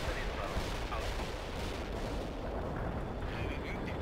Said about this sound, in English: You failed to destroy that artillery, and now they are wreaking havoc to our rear.